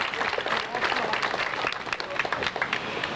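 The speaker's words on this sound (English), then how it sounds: "How about a big round of applause for all those volunteers?" Symposium attendees give the volunteers a round of applause, the sustained crackle of many hands clapping at moderate distance, with no break across the few seconds.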